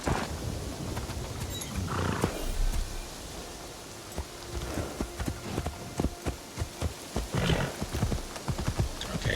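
Steady clip-clop of horse hooves trotting in the video game Assassin's Creed Shadows, with an irregular rhythm over a busy ambient background of outdoor noise.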